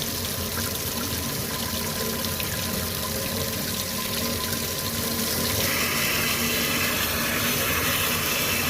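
Water gushing steadily from a tap into a sink, close and loud, growing a little brighter partway through.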